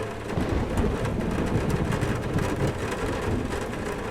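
Rumbling storm ambience from the video game Metro Exodus, with a steady low roar of rain and distant thunder building under it, dense and continuous throughout with no voices.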